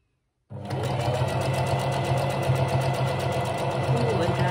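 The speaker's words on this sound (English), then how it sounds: "So you're literally sewing a straight line down there and there." Sewing machine running steadily as it stitches a straight top-stitched line down a wool coat, starting abruptly after a moment of silence and then humming and clattering close and loud without pause.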